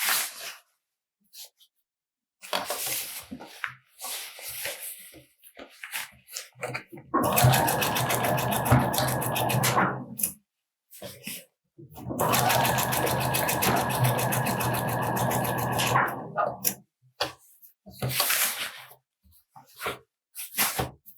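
Domestic sewing machine stitching a sleeve into a garment, two sustained bursts of rapid mechanical whirring of several seconds each, close up, separated by quiet handling noises and brief pauses.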